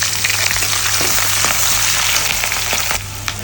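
Onions, cumin seeds, curry leaves and garlic fry in a pan for a soy chunk curry, giving a loud, dense, steady sizzle and crackle close by that eases slightly near the end.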